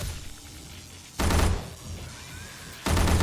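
Two loud bursts of rapid gunfire in the zombie game 7 Days to Die during a horde night, separated by a quieter stretch of muffled game noise.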